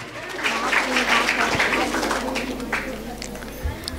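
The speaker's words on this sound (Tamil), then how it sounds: "சுபஸ்ரீ அவர்களுக்கு நல்ல ஒரு கைத்தட்டல கொடுங்க." An audience at a literary festival debate applauds a speaker, steady clapping filling the hall for several seconds and tapering slightly, with faint voices and scattered noise underneath.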